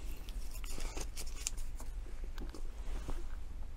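Wrapping peeled off the ends of carbon tubes for a race car power distribution panel support, close crinkly tearing and snipping sounds over a low steady background hum.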